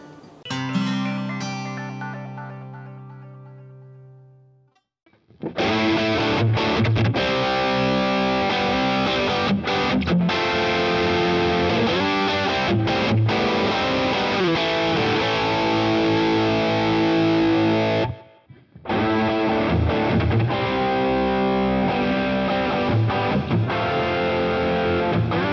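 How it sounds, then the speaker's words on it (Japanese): Electric guitar with heavy distortion played through a BOSS Katana:GO headphone amp with its Stage Feel reverb effect, a loud sustained riff after a clean opening chord, briefly cutting out before resuming. "このステージフィールっていうエフェクト、まあ、リバーブの切り替えなんですが"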